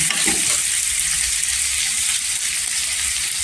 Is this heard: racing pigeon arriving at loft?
no